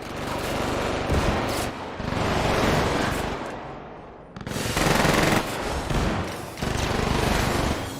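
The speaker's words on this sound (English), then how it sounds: "So many bullets, so little time." Sustained automatic gunfire in the first-person shooter Combat Champions, loud, continuous bursts separated by brief pauses, close and heavy, with no voices over it.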